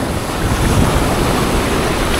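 Steady roar of ocean surf with wind buffeting, a continuous wash of breaking waves close by, no voices.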